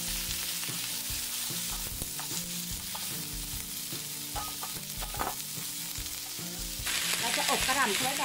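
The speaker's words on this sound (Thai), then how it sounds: "เสร็จแล้วเราก็ใส่กระหล่ำลงไปเลยค่ะใช้ไฟแรงนะคะ" Cabbage stir-fries in a wok over high heat, a dense continuous sizzle broken by scraping and clattering stirs, growing louder and hissier toward the end.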